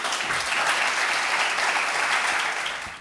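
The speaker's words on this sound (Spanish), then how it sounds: "por favor pido un aplauso para Albert Esplugas" An audience claps to welcome speaker Albert Esplugas before his talk on open borders, a full, even burst of applause that holds steady and then tapers off quickly at the end.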